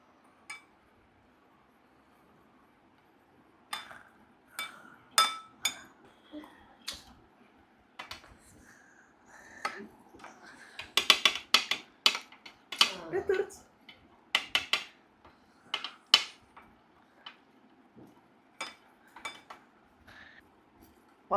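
A utensil stirs hazelnut drinking chocolate in a pan, making scattered sharp clinks and scrapes against the metal that cluster densely in the middle, with quiet stretches between.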